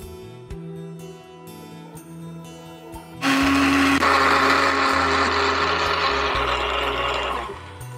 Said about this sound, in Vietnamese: Cái này mình xay sinh tố để mình thắng với để vô cái sôi xoài đây